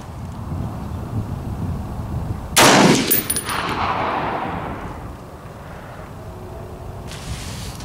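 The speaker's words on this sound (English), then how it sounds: "All right, another shot." M1A SOCOM rifle fired outdoors at a steel post 200 yards away: a single sharp, loud gunshot followed by a long rolling echo that fades over several seconds amid wind noise.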